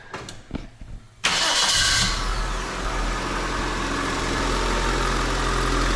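A Daihatsu Nugget engine, just repaired, turns over after a short cranking burst, catches and settles into a loud, steady close-up idle that runs unbroken to the end.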